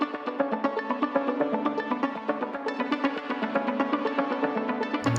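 A dull-sounding synth arpeggio plays a steady run of rapid repeated notes, dense and even with soft attacks, alone with no voices.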